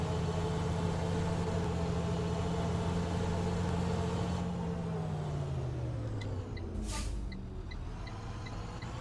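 Simulated vehicle engine in the driving game Rigs of Rods, a steady droning hum with a tone that drops as it slows, joined near the end by a brief hiss like an air brake, with no talking.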